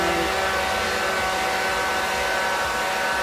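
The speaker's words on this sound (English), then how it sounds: "I'm blow drying downward." A handheld blow dryer runs continuously at close range with a steady, loud whooshing roar and motor whine while drying natural hair downward, with no voices.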